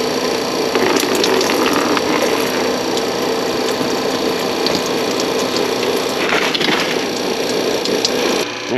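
Coolant draining out of the lower radiator hose of a Dodge Journey, a steady rushing, splashing pour that holds evenly for several seconds before cutting off near the end.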